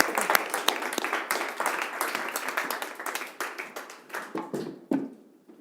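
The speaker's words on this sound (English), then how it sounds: "Give Amy a round of applause" A church audience applauds after a member shares her story, a lively burst of many hands clapping close and clear that thins out and fades to a few scattered claps at the end.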